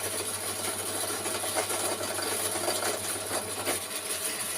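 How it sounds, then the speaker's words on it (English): Drilling the four mounting holes for the cylinder on a gauge 1 locomotive build, a steady rasping whir of the bit cutting metal over a constant motor hum, continuous and close. "I'm going to drill out the 4 holes that are going to hold the cylinder"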